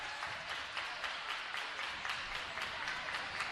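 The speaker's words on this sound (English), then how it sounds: "Listen at the crowd, T-Roy. They're getting behind these student athletes." A crowd at a high school basketball game between Forrest and Fayetteville sends up a steady wash of cheering and applause, distant and fairly faint, holding an even level throughout with no clear voice on top.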